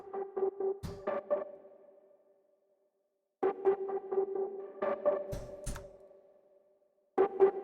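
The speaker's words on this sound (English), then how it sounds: "We're going to throw a lot of reverb on it." An ambient D minor synth melody from the Electra X plays in groups of soft, bell-like staccato notes, each run trailing into a long reverb tail and then near silence before the next phrase.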